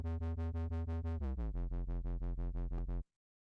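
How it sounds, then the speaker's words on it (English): A synth with a distortion effect applied plays a rapid, evenly pulsed run of about fifteen buzzy, harmonically dense notes that drop slightly in pitch midway. The run stops abruptly, leaving silence. "And then if I use the distortion,"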